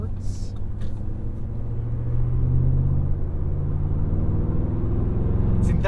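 A 2022 Audi SQ7's V8 engine pulling under throttle, a deep continuous rumble that swells as it accelerates, heard from inside the cabin with a voice talking over it.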